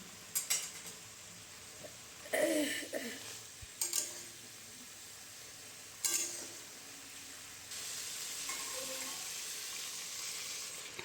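Water goes into a pan of fish curry masala with fried sea fish, bringing a few sharp sizzling bursts and stirring scrapes, then a quieter steady simmer.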